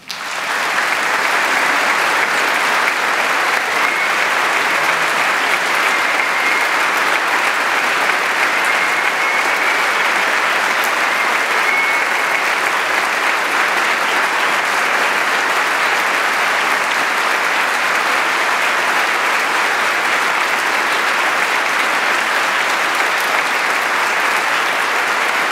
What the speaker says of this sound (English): To those of you listening on the radio and applauding at home or at your office, you're joining a packed sanctuary here at Westminster Church listening to Barb